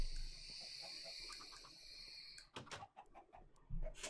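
A chicken in Minecraft clucking in short soft bursts near the end, after a stretch of faint high insect-like chirping ambience.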